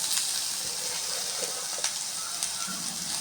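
Onions sautéing in a pan for a roasted gram and onion chutney produce a steady, fairly quiet hiss and sizzle with faint occasional crackles, continuous throughout.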